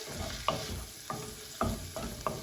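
Ingredients are stirred in a pan during Chinese cooking, four distinct scrapes of a utensil against the pan at a relaxed rhythm over a soft background sizzle, nothing spoken.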